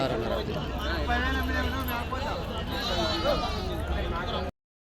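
Goats bleat repeatedly at a busy goat and sheep market, the cries rising over a constant background of people talking nearby.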